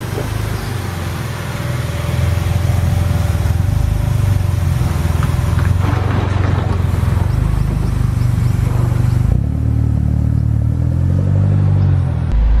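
A 2015 Mitsubishi Lancer GT with a turbo being driven, its engine a loud steady drone with a shift in pitch around the middle and a lower, smoother note toward the end.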